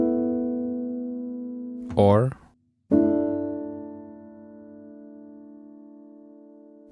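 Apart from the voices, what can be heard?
suspended (sus) chords played on keyboard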